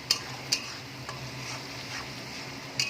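Ginger-garlic paste stirred in a hot frying pan for chicken kofta curry, giving a faint, steady sizzle with a few sharp spoon clicks against the pan near the start and end.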